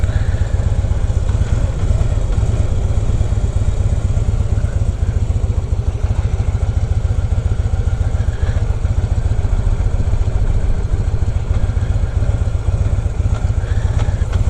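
A motorcycle runs slow figure-eight loops on a summer evening, the rider dragging the rear brake and working the clutch, giving a steady, close, dense engine drone with an uneven low-end rumble throughout and no talking.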